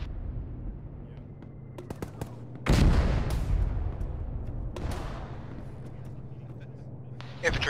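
In the Arma military video game, heavy mortar impacts land with two loud booming blasts a couple of seconds apart, rumbling on after each, amid a low engine hum and people talking.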